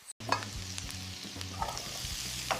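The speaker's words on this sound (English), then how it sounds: "Gochugaru, garlic, and soy sauce. Stir fry on medium heat." Pork stir-frying on medium heat in a pan with gochugaru, garlic and soy sauce for Korean jeyukbokkeum, a close, loud sizzle with quick scraping stirs under a low steady hum.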